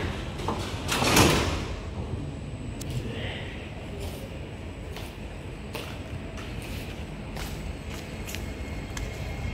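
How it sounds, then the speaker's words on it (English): Train doors close on a C151B metro train running between City Hall and Marina Bay, a loud whooshing slide followed by a steady hum of the carriage and occasional clicks. "Doors are closing."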